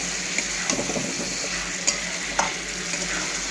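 Mutton curry sizzles steadily in a pan while a utensil stirs it, with scraping strokes and occasional sharp clinks against the metal over a constant close frying hiss, no talking.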